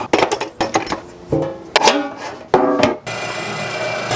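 Summer sausage meat is worked by hand with spices and a binder, giving a series of wet squelching, slapping and scraping sounds at close range, irregular bursts with short pauses.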